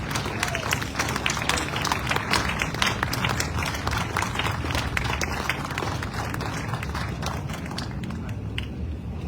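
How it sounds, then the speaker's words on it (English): An audience gives a sustained round of applause for the Marines of squadron 371 at a retirement gathering. The dense clapping fills the room evenly and keeps going without a break. "I'd like to acknowledge the Marines who have ever or are currently a part of 371 by standing up and a round of applause."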